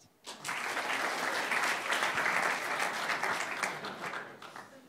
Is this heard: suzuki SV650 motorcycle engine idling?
no